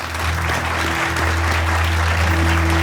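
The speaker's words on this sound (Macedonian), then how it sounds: "Аплауз одиме." Studio audience applauding during a Macedonian talk show interview, a steady, dense wash of clapping held for about three seconds without a break.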